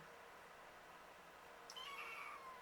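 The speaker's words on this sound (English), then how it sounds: "My tiny cat Precious wants to tell me everything" Small indoor cat giving one clear, fairly soft meow near the end after a stretch of quiet room hiss.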